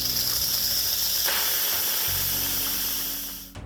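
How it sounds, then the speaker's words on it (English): Steam hisses steadily and loudly from an Instant Pot's pressure valve during a manual release after cooking asparagus soup, one continuous rush that shifts in tone partway through, then cuts off abruptly at the end. "Now we will manually release the rest of the pressure before removing the lid."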